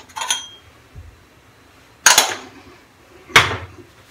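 A dish for French Lacadon shaving soap is handled, giving three short, bright clinks spaced apart, close and fairly loud against a quiet room.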